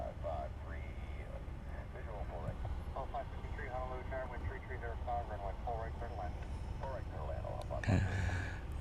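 An airliner at Honolulu airport heads out on the reef runway, its engine a distant steady rumble beneath continuous conversation, with a brief louder burst near the end.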